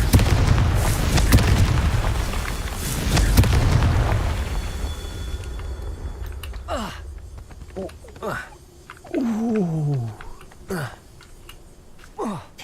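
A Confringo fire spell in Hogwarts Legacy sets off a pair of loud, booming blasts with a rumbling tail early on. Scattered game effects and short whooshing and crackling sounds follow, and a voice speaks briefly.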